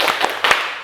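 A school class does a brief rhythmic cheer clap: a few crisp, close claps land in a quick pattern, all in under a second.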